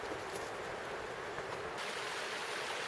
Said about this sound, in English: And then I finally get to the noisy Foss River crossing.